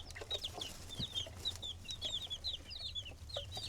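Newly hatched baby chicks in an incubator tray cheep constantly with rapid, high-pitched peeps that overlap one another. The chorus sounds close but soft, with a low hum underneath and no talking.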